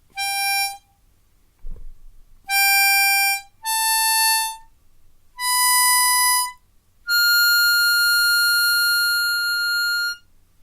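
Five sustained reedy harmonica notes, each held a second or more, separated by short pauses, with the last note held longest; clean and close, no talking.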